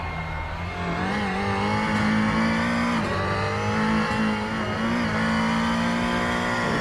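A race car at the Knockhill circuit is pushed hard, its engine note loud and close as it revs and shifts through gears, pitch rising and dropping several times over a sustained run.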